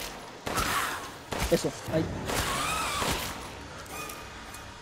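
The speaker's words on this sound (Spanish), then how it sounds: "Le disparo a las patas" Gunfire in the video game Resident Evil Village, several sharp shots in quick bursts amid game sounds, with a player talking over the action.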